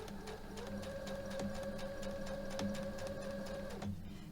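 A sewing machine chain piecing fabric runs in a steady fast whir with a regular clattering stitch rhythm, close and continuous for a few seconds before stopping, with no talk.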